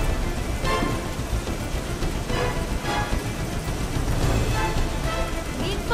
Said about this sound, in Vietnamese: Đang có bão lớn